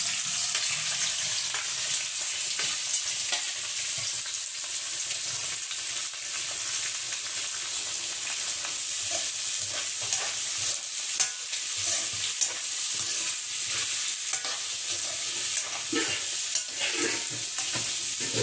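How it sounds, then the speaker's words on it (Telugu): Onions and green chillies fry in a pan with bay leaf, cloves, cardamom, cinnamon and star anise for a mutton tomato curry, a constant loud sizzle with occasional stirring scrapes close by, without speech. "ఉల్లిపాయలు మగ్గుతున్నాయి"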